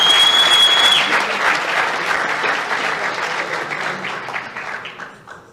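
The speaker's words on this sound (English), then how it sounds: "So give him a huge round of applause." Loud, dense applause from an audience at the 2022 Hawkie Awards ceremony, starting strong and slowly tapering off over several seconds.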